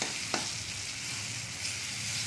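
Ginger garlic paste frying with softened tomato pieces in a pan for palak paneer, a steady close broadband sizzle with one sharp spoon scrape near the start and faint stirring; no one talks.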